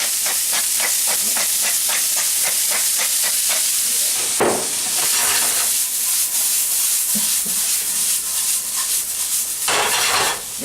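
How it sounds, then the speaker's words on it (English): Food sautés in a hot pan with a loud, continuous sizzle. Quick, regular scraping and tossing strokes run through it, and no one speaks. "We'll let that saute up for a second."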